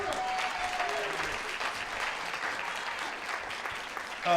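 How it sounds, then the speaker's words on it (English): Audience at a charitable foundation graduation ceremony claps steadily and evenly, a continuous, moderately loud round of applause with faint voices underneath. "Let's give him a round of applause."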